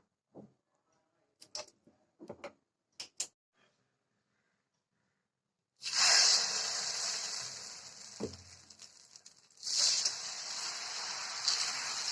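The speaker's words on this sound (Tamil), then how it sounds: "வாங்க நம்ம தோசை ஊற்றிக்கலாம்." Egg dosa batter sizzling loudly on a hot griddle, a sharp hiss that starts abruptly after a few faint clicks and taps, then a second hissing surge as more batter hits the pan.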